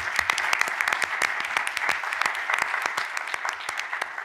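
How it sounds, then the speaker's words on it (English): An audience gives a round of applause for a panel at an AIA evening meeting, dense steady clapping from many hands sustained throughout, fairly close and without speech. "why don't we have a round of applause for our panel?"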